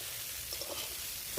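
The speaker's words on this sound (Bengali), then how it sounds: "সয়াবিনগুলোকে একটু লাল লাল করে ভেজে নেব।" Marinated soybean chunks frying in refined oil in a kadai, a faint, steady hiss of sizzling with a few soft pops over the short stretch.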